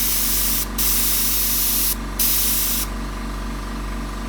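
Airbrush spraying paint for a Joker face design, a steady close hiss running throughout with two brief pauses where the trigger is released, over a constant low compressor hum.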